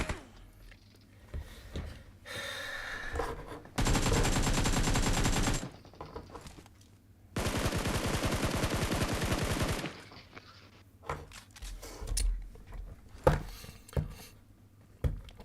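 Automatic gunfire in the mobile game PUBG Mobile: two long, loud sustained bursts separated by a pause, followed by scattered single shots and softer in-game noise.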